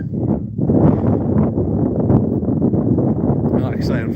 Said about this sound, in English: We're back in the windy season again.